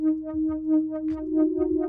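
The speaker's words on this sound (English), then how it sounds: "First thing we want to do is play a synth line" A simple synth line holds one sustained note while a few extra notes join in, set against soft thumping drum hits, moderately quiet and close with no talking.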